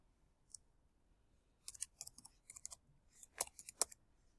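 Quick bursts of clicky keystrokes on a computer keyboard, close and fairly quiet, arrive in uneven clusters after a brief pause, with no voices.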